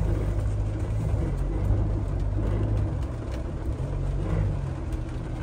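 A Mahindra Thar 4x4 stuck off-road gives a steady, low engine rumble that drones on without pause at close range, with no clear revving peaks.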